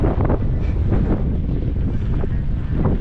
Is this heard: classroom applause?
no